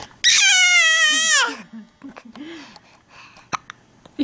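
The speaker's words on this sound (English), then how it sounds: "Do you have hiccups now?" A baby lets out a long, high, loud squeal, then a few small, abrupt hiccup sounds, with soft adult talk nearby.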